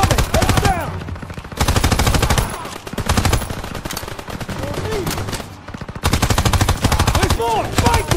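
Rapid bursts of automatic gunfire from a World War II battle in the Call of Duty WWII video game, loud and continuous with brief gaps, as soldiers shout orders over the fusillade.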